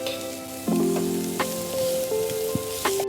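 Onions frying in oil for Maratha-style chicken biryani, a steady loud sizzle with stirring scrapes and tonal clinks over it, close up and continuous with no talking.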